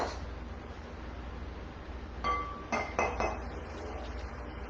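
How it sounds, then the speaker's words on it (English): Utensils clink against a bowl a few times in quick succession as salad with dressing and nuts is stirred, faint and close with a quiet hum beneath and no talk. "I'm just going to stir this up a little bit."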